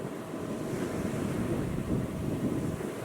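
Ocean waves heard aboard a sailing yacht at sea, a continuous low rushing wash mixed with wind buffeting the microphone, steady and fairly quiet with no voices.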